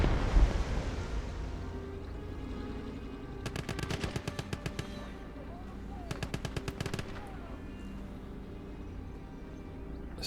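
Enemy machine gun in the WWII strategy game Call to Arms Gate of Hell, two distinct bursts of rapid rattling fire at moderate distance over a low rumbling battlefield ambience.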